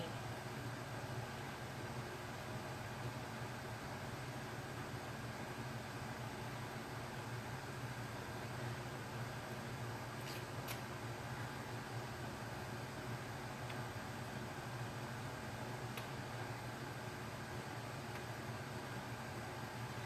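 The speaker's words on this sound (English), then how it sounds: "I think that hair dryer is probably almost as old as me." An old hair dryer runs in a room during a door-hanger painting session, giving a steady, unbroken whooshing roar at an even level throughout, with no voices over it.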